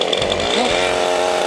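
A 40cc chainsaw engine revs loud and close, holding a high, buzzing roar with a steady rhythmic pulse throughout the short burst.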